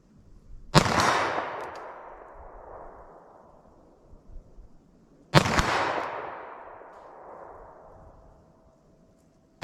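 Two sharp, loud pistol gunshots about four seconds apart, each with a long ringing decay tail, fired from a pocket pistol using .380 ACP +P and .32 ACP +P Underwood Xtreme Defender rounds. A third shot begins at the very end, with no talking.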